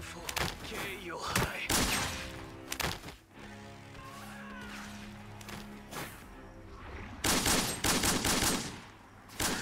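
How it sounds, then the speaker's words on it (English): Gunfire in a Roblox bounty-hunt game, bursts of rapid shots at the start and end with quieter stretches between, mixed with a voice talking over the action. "Stop shooting."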